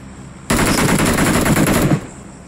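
Sustained rapid automatic gunfire from the mobile battle royale game BGMI, a loud, dense burst of shots lasting about a second and a half after a quiet start, then cutting off.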